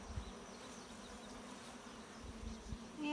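Honey bees buzz steadily around an open hive during an inspection, a continuous low drone with a few brief louder passes close by, no talking.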